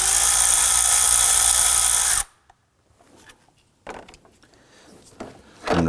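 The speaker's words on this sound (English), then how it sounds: "what we're going to do is loosen and remove this bolt" A power tool loosens a 10mm bolt on a 2005-2009 Subaru Legacy 2.5L H4 in a loud continuous burst of about two seconds, then quiet clinks and handling noises follow.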